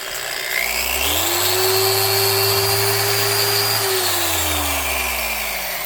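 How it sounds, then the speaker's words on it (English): A Porter-Cable 7335 5-inch commercial-duty dual action random orbit polisher/sander with variable speed spins up, holds a steady smooth whine, then winds down, loud and close with no talk. "Really a pretty smooth operator, and that's the big deal about this type of sander."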